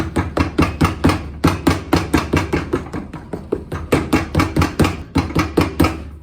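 A hammer taps a new Dainite rubber sole onto a Ted Baker shoe, a rapid steady series of loud, close, dull knocks, about four per second, with no voices.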